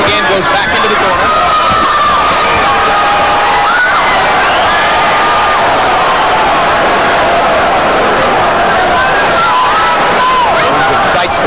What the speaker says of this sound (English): Jones excites the crowd with a few power shots